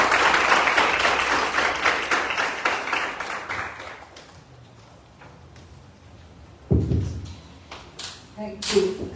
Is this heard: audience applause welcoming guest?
yes